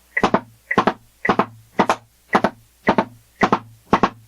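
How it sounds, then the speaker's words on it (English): Drumstick double strokes in 16th notes, a basic percussion rudiment: eight evenly spaced pairs of crisp wooden hits, each bounce landing right after the first, played alone in a steady rhythm. "I'm going to play 16th notes with doubles."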